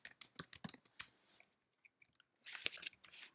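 Bursts of keystrokes on a computer keyboard while entering a base URL into code, irregular clicks clustered in quick runs with a short pause, then a dense flurry of fast typing, close and clear with no voices.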